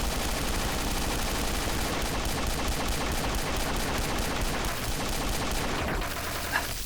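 Video game gunfire, a dense continuous barrage of rapid shots layered with game sound, loud and unbroken for several seconds, then easing slightly near the end.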